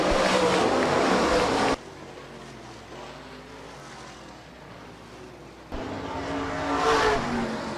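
Late model race cars in a Tri-State Late Model Series heat race at Rapid Speedway, a dirt oval. Loud engines roar past at the start, fade to a distant drone, then surge back close and loud near the end.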